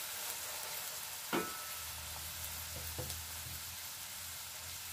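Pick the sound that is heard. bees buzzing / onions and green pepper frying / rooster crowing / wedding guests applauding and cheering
onions and green pepper frying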